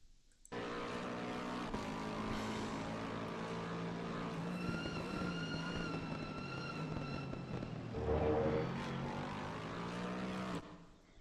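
A Lexus race car in the Assetto Corsa Competizione racing game drives by with a sustained engine whine that shifts pitch through gear changes, swelling louder briefly before fading.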